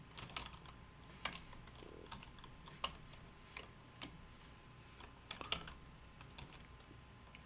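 Computer keyboard keys clatter in steady, uneven runs of close, quiet clicks, with a few sharper taps standing out, under soft scattered speech.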